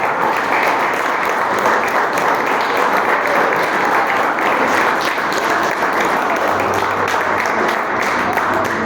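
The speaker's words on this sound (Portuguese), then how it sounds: "dá uma salva de palmas para Ele, em nome de Jesus" Church congregation applauding at an evening Easter service, a loud, dense and steady wash of clapping that fills the whole stretch without pause.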